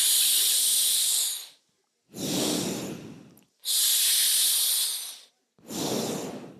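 Four long hissing breaths are drawn in through clenched teeth in sadanta pranayama, a cooling breathing exercise; each sharp, airy hiss is separated by a short silence, close and alone.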